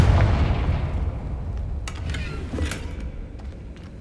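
A Confringo fire spell bursts in Hogwarts Legacy with a loud booming blast that rumbles and fades over several seconds, with a few sharp crackles on top.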